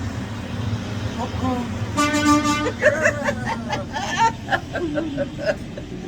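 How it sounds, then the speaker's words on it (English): An 18-wheeler's air horn blasts for about a second, loud and harmonic, over street noise and people talking nearby. "I'm gonna see if it'll honk."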